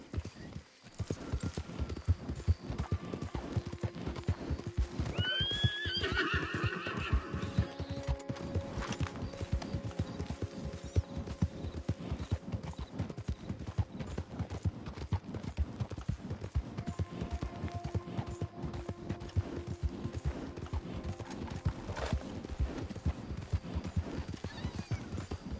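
Horse galloping in Red Dead Redemption 2, a steady rapid clip-clop of hooves throughout, with a brief whinny early on.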